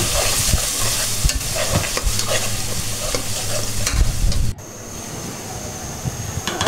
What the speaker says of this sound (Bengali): আমরা একটু আবার নাড়াচাড়া দিয়ে নিব।